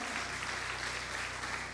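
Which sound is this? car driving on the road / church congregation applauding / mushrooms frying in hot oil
church congregation applauding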